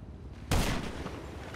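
Gunfire in GTA Online breaks the near-silence with a sudden loud burst of shots, followed by a ringing, echoing tail.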